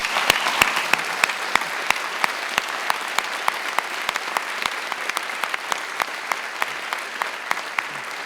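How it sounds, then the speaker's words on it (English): A hall audience at a university investiture ceremony claps steadily for those who organized the event, dense even applause punctuated by sharp close individual claps standing out near the microphone. "Let's give them a round of applause."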